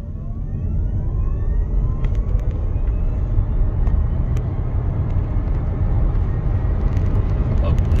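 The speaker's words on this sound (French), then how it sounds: "on se met à l'arrêt, on teste une accélération" A 2023 Hyundai Kona Electric (39 kW) accelerating hard from a standstill at full throttle: a thin electric whine climbs in pitch over mounting road and tyre rumble, heard from inside the cabin.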